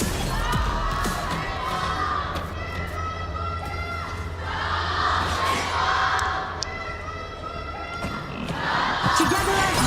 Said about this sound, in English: Cheer it up for your favorite team.